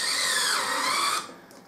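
Kolver electric screwdriver driving screws, a steady high motor whine that runs evenly for over a second, then cuts off abruptly, close and alone.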